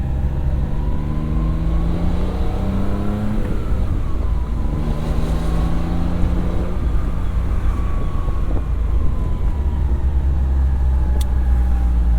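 A 1991 Honda Beat's small engine drones continuously while driving, its pitch rising and falling through the gears under steady road and wind noise, heard from inside the cabin with no talking.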